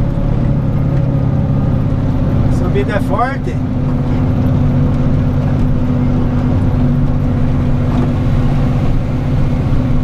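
A heavy dump truck engine labors uphill in second gear, a loud, steady, deep drone that holds constant for the whole stretch, with a brief voice speaking over it.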